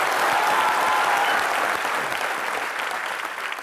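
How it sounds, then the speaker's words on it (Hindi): A studio audience on a comedy show bursts into loud, dense applause for boxer Mary Kom, sustained clapping that fades slightly toward the end. "जोरदार तालियां एक बार मैरी कॉम के लिए"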